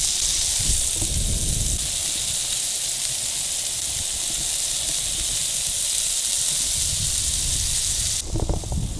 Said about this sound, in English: Let's get this griddling.